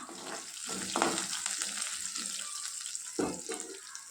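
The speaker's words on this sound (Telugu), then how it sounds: "వీటన్నిటిని బాగా వేయించుకోవాలి" Dry fish, eggplant pieces and curry leaves fry in hot oil in a pan for an old-style curry, giving a steady close sizzle with occasional stirring scrapes and clatters throughout.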